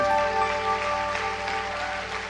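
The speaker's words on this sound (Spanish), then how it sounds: "Ofrécele un fuerte aplauso al Señor" A church congregation claps during worship, a broad sustained wash of many hands under a steady musical drone with held tones, continuous and fairly loud from start to end.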